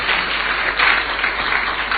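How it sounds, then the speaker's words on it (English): Audience at a labour dialogue with the president clapping for the union leader, a continuous patter of hands at moderate volume, slightly swelling midway. "Please give him a round of applause."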